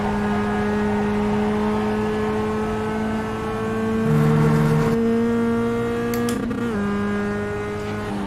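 A race car driving a hot lap, with the engine note holding a steady, loud, sustained drone under acceleration. The pitch dips briefly and shifts around the six-to-seven-second mark as the car comes down into a chute.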